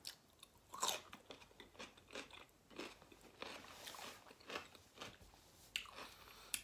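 Close, crisp crunching bites and chewing of fresh cucumber, repeated in irregular bursts through the clip with no talking.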